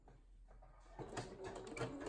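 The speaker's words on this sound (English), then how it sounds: "top stitch a narrow zigzag stitch down the center of this seam" A sewing machine runs a narrow zigzag top stitch down the center of a seam on a bralette bikini top, a steady rapid mechanical whir starting after a quiet second and continuing close and alone.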